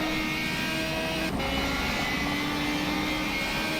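Race car engine lapping Lime Rock in a sim racing game, a steady loud droning whine with sustained harmonic tones and no pauses or voices.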